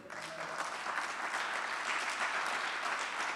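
Sustained audience applause at a university fall convocation, a dense, steady wash of many hands clapping together throughout, fairly loud and unbroken.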